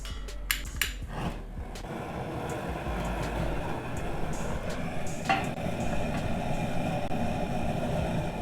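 A brew kettle burner fires up for a raspberry kettle sour boil, a few sharp clicks at ignition giving way to a steady low roaring hiss that holds evenly and fairly close.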